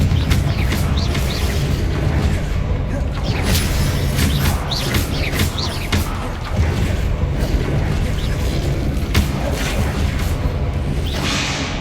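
Confringo blasting spells go off during Hogwarts Legacy combat: a rapid run of loud booms, bursts and swishing whooshes, one after another, with no gaps of quiet.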